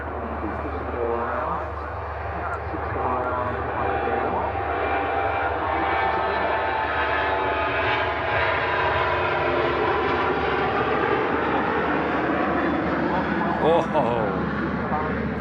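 A Ryanair airliner taxis across the airfield, a steady jet engine whine and rumble at moderate distance, continuous throughout, with people chatting over it.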